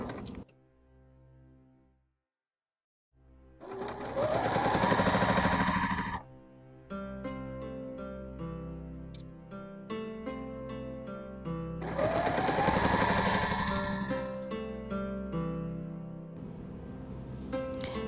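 A sewing machine stitches fabric bunting in two loud, close, whirring bursts with quieter motor hum and mechanical clatter between them.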